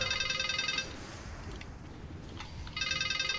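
A phone ringtone rings in loud repeating bursts, cuts out for about two seconds, then starts ringing again.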